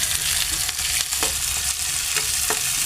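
Onion and green garlic fry in hot oil with a dense, close sizzle, punctuated by a few quick spatula taps and stirring clicks; no talking.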